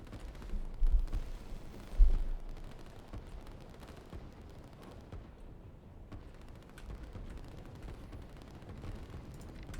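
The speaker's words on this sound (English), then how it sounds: "we're seeing some tanks and artillery help out here" Tanks and artillery fire in a war video game battle, with a couple of heavy low booms early on over a continuous rumbling din of distant gunfire and explosions.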